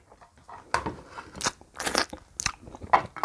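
Crisp crunching bites and chewing on makham hoem, a sweet-sour Thai tamarind, close up in a quiet room, with several sharp crunches spaced through the chew.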